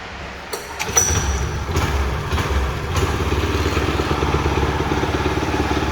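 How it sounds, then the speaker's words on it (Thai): A Kubota TG 550 utility vehicle's small 5.8-horsepower engine is pull-started with a couple of thumps and then runs at a steady, rumbling idle close by. "เดี๋ยวมาฟังเสียงเครื่องยนต์กันดูครับเครื่องดีมากครับ ดึงเบาๆชึกติดเลยนะครับ"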